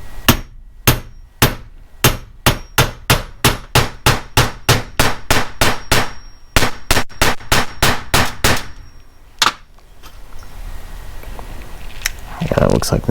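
A hammer striking a punch on a Makita 3711 recoil starter, a long run of loud, sharp metallic blows at a steady quick rhythm, then a pause with faint handling and rustling at the end.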